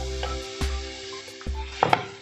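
Ginger garlic paste sautéing in a pan while prawn ada is made, giving a low steady sizzle punctuated by a few sharp stirring knocks and clinks of the utensil against the pan.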